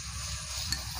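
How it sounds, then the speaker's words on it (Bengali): Spice paste with turmeric and a little chili powder sizzling and frying in a pan with a splash of water, a steady close hiss with faint stirring and no talk. "আমি সামান্য জল দিয়ে মশলাটা কষিয়ে নেব।"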